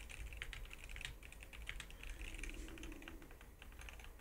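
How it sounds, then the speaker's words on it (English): Rapid, continuous typing on a Wooting 60HE Alumaze keyboard with stock unlubed switches, close and clear, with even clacky keystrokes and no talking. "I think that sound profile is utterly amazing for a stock keyboard with these stock unlubed switches."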